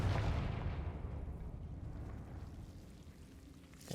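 A Confringo fire spell blasts in the video game Hogwarts Legacy, leaving a soft, rumbling burst that fades slowly into near silence before a small click at the end.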